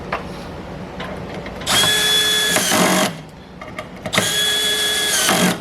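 A power drill drives a 7/8 flathead machine screw into a trolling motor mount: two loud, steady whining bursts of about a second each separated by a short pause with light handling clatter, close up.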